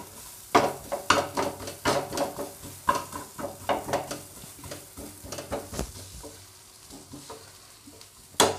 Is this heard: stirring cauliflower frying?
yes